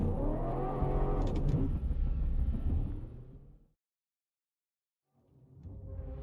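A car engine in the Minecraft video game drones and revs loudly while driving through mud, fades to complete silence for over a second, then comes back.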